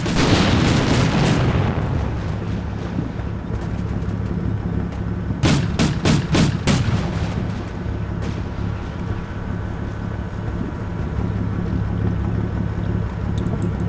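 Artillery fire in the wargame Combat Mission Black Sea: a heavy opening boom decays into a long low rumble, then a quick run of sharp reports bursts out around the middle, all under a steady low engine-like drone with no talking.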